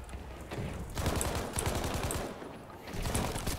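Light machine gun firing in Battlefield 5 multiplayer, a fast sustained burst of rapid shots with brief gaps, steady and moderately loud throughout with no talk over it.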